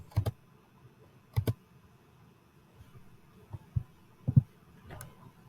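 Button presses on a graphing calculator come in short clusters of two or three sharp plastic taps separated by quiet pauses, close and fairly soft.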